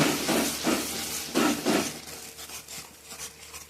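Coconut paste masala being stirred in a frying pan over low flame for a tilapia malai curry, with soft sizzling and a few scraping stirs in short bursts early on, then quieter frying hiss.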